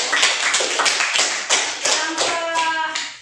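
Classroom of students clapping their hands in a quick run of sharp, roughly rhythmic claps that end in a short burst of children's voices.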